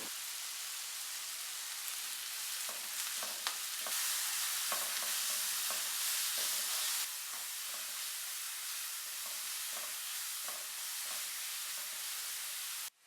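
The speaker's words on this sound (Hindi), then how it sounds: "इसको तेज़ आंच पे मैं 1 मिनट के लिए मज़ीद फ्राई" Spinach with salt, roasted cumin, garam masala and red chilli frying on high flame, a steady close sizzle with scattered stirring clatters throughout, no talking.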